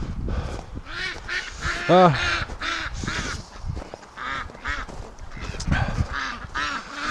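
Breeding ducks, Rouen among them, quack and honk repeatedly at close range on a cold day, a busy chorus of overlapping calls with a person speaking briefly between them.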